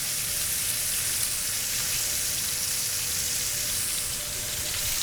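A New York strip steak sears in a hot pan, giving off a steady, loud sizzle with a dense hissing crackle that runs unbroken and alone.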